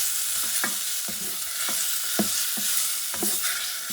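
Breaded kangaroo pasta sizzling in a pan while being mixed, a constant bright hiss with irregular soft scraping strokes of a utensil, close, without speech.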